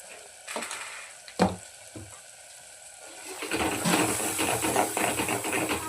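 Ground black masala roasting in a pan with a splash of gravy for mutton handi over a low flame, a couple of sharp stirring knocks early on, then a steady, close sizzle and hiss that swells and holds.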